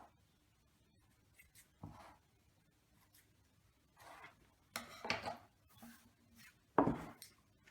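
Tart pastry dough for a homemade tarte tatin is cut around the rim of a pan in short, scattered scraping and chopping strokes, quiet and close, with gaps of silence between them.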